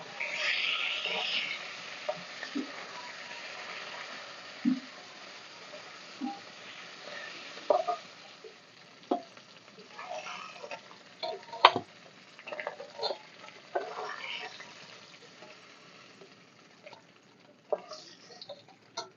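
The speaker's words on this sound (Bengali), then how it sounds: "এখন কড়াইতে আমি সরষের তেল দিয়ে মাছগুলো ভেজে নেব।" Rohu fish pieces fry in mustard oil in a wok, a steady low sizzle with scattered spatters, soft utensil clicks and taps throughout, no talking.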